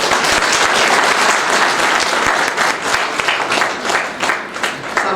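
An auditorium audience applauds at a book release event, with loud, dense clapping at first that thins and grows more scattered toward the end.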